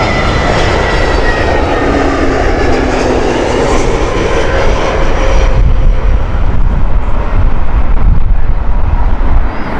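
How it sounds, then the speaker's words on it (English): SAS Airbus A320neo airliner at Heathrow Airport, its engines roaring loud and steady throughout with a broad wash of wind-like noise, shifting in tone partway through as it passes, no voices. "The next flight is the beautiful SAS Neo."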